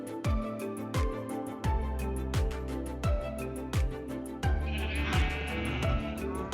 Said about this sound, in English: Using the sheep, which he has bred, the noob collects wool